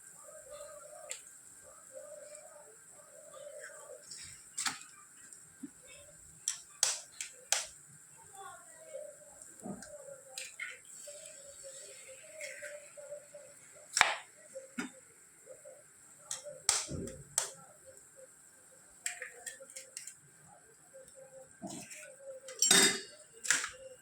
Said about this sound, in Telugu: ఇట్లనైతే ఎగ్స్ కొట్టుకోవాలి ఇప్పుడు